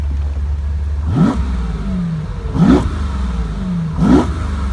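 A 1972 Jaguar E-Type Series III roadster with a 7.0-litre fuel-injected V12 blips its throttle three times, each rev rising sharply then falling back to a steady, loud idle.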